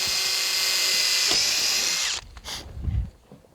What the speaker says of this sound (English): I'm going to take and run a drill through the plastic